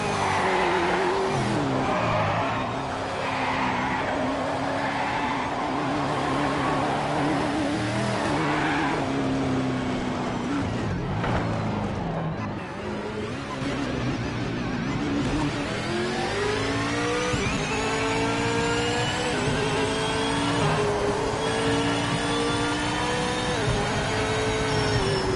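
Ford and Holden V8 Supercars race in Project Motor Racing on a skid pad, their engines loud and continuous as they rev and shift pitch, with tires skidding and squealing beneath the roar.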